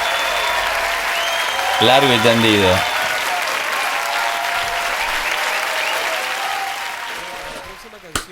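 A live crowd claps at La Ley's MTV Unplugged performance of "El Duelo", with steady, loud applause and whistles. Someone briefly talks over it, and the clapping tapers off near the end.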